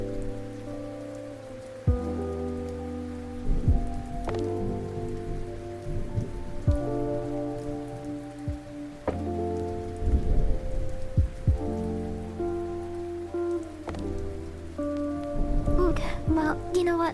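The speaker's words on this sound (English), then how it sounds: "if the thunder sounds are bothering you, I can turn them off. It will just have the rain sounds." Ambient rain and thunder sound effects play under a droning musical background, with a steady patter of rain and several low, rumbling thunder rolls spread across the stretch, growing busier near the end.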